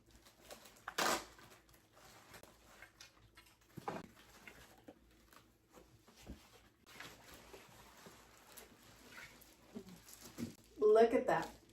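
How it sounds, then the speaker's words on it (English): Plastic and foam packaging rustles and crinkles while a lighted Hollywood-style makeup mirror with 14 LEDs is unwrapped, with scattered close crackles and a louder burst of crumpling near the end. "So let's go ahead and unwrap all of this"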